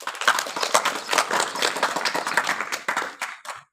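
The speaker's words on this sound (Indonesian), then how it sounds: "berikan aplaus" Classroom audience applauding, a burst of many hands clapping in quick irregular patter, fairly close and lively, tapering off toward the end.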